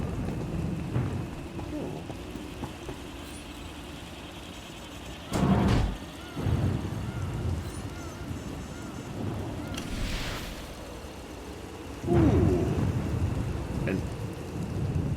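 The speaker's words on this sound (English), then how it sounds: "Hard to track them through the storm. Rain's wiped out the trail." Steady rain hisses throughout while heavy thunder cracks and rumbles a few times, loud and close, with occasional lighter booms in between, in the video game Star Wars: The Old Republic.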